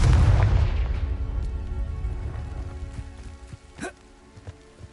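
A fiery Confringo blast in Hogwarts Legacy bursts loudly at the start, then its rumbling boom decays over several seconds into scattered crackles and a few sharp pops.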